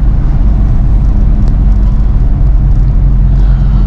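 A 1994 Suzuki Katana DX small boxy car driving, heard from inside as a loud, steady low engine and road rumble with no talk.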